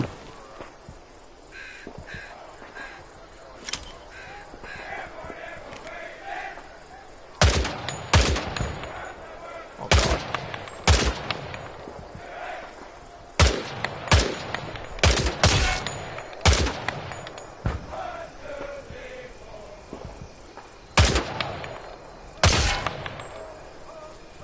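Gunfire in the World War II shooter Hell Let Loose as targets are engaged: sharp single shots and short bursts, loud and close, scattered irregularly with a few faint distant reports between them, over a low battlefield ambience.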